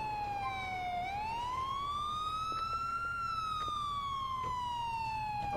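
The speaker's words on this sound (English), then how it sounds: "let's turn off that freaking siren!" A police siren in a video game wails continuously, sweeping slowly up and down in pitch, loud and close, with a low engine rumble underneath.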